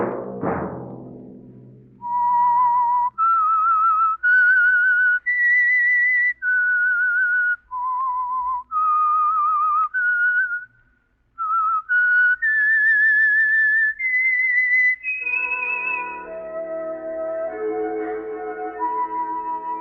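A solo whistler carries a slow melody in clear, sustained notes, pausing between phrases, before a small orchestra swells in at the end, as the theme of an old-time radio drama.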